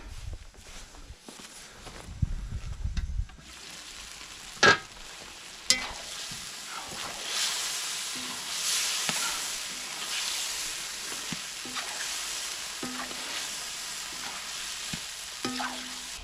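Pig ears stew in a cream sauce in a cauldron with a soft, continuous sizzle and bubbling, broken by a few sharp metallic clanks and scrapes from stirring.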